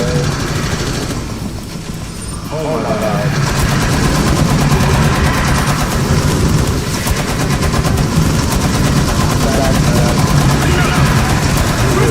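A turret machine gun in the video game Rainbow Six: Extraction hammers out continuous loud automatic fire, a steady close-range rattle lasting most of the stretch after a short softer opening, with players talking underneath.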